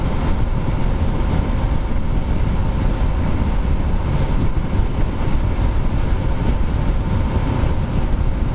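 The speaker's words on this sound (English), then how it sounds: "It is revving pretty well, but it's designed to rev, so I'll let it rev." Honda CRF300L motorcycle cruising at highway speed with the engine revving high, heard as a steady, loud, broadband engine and wind roar that holds without a break throughout, with no talking.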